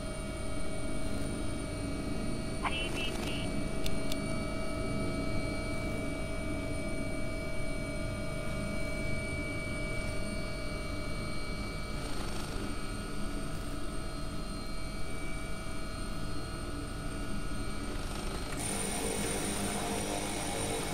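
An AW-139 helicopter in X-Plane 11 flies with a steady, loud, droning engine and rotor hum throughout, a constant whine on top and a brief click partway through.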